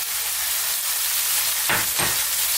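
Chopped onion sizzling in a hot pan for a lamb and potato curry, a steady close hiss with two short bursts of stirring or scraping near the end.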